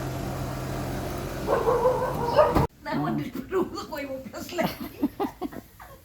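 A dog gives a few short yips and whimpers amid background noise and a steady hum, followed by people talking close by.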